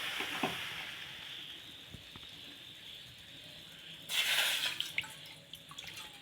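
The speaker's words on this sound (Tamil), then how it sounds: "ஒரு டம்ளர் தண்ணி ஊற்றிக்கலாம்." A tumbler of water is poured into a pan to start a sugar syrup for a bread and milk dessert: a quiet steady hiss, then a brief louder gush of pouring water near the end.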